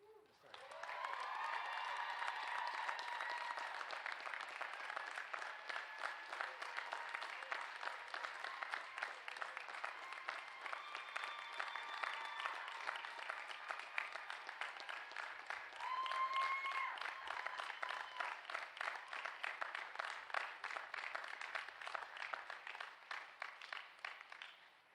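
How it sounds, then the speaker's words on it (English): A commencement audience claps steadily for about twenty-five seconds, a dense wash of many hands heard from a distance, with scattered voices mixed into the applause. "Please join us one more time in a round of applause for Cadet Inglet"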